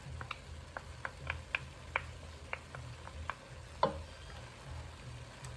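Onion and garlic sizzle gently in a pan for Three Sisters soup: a faint low fry under scattered light ticks and pops, with one louder clack near the end and no talk.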